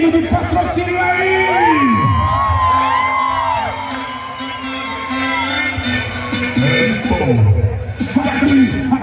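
A rodeo crowd at a festival in Patrocínio, Minas Gerais, cheers, whoops and shouts continuously and loudly, with many overlapping voices.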